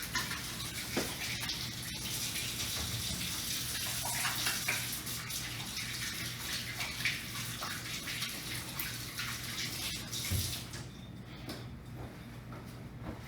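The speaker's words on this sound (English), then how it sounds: "I'm gonna wash my hands real quick" Running tap water streams steadily while hands are washed at a kitchen sink during cooking, a continuous broadband rush near the microphone that eases off toward the end.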